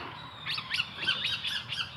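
A black eagle newly arrived in care gives a rapid series of sharp, shrill squawks, about six calls in quick rhythm, close by over a faint background.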